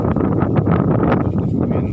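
Wind gusting over rice paddies on an evening before rain, a steady, close, buffeting rush with rustling that holds loud and unbroken throughout.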